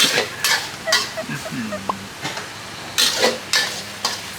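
Food being stir-fried in a pan at a roadside eatery, rhythmic bursts of scraping and sizzling strokes with brief gaps, and a faint voice-like tone briefly in the middle.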